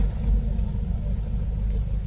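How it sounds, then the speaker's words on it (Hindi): A Chevrolet Cruze car engine idles steadily after servicing, a smooth, even low rumble heard up close with no throttle input and no other sounds. "इंजन का साउंड एकदम से चेंज हो जाएगा, बिल्कुल स्मूथ और प्यारा इंजन हो जाएगा"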